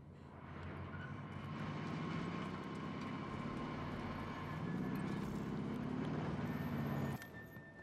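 A steady airplane engine drones in a Call of Duty Warzone match, holding a continuous mid-loud hum for about seven seconds before cutting off abruptly near the end.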